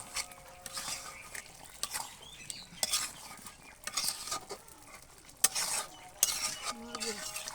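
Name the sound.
stirring chicken curry in a pot on a clay stove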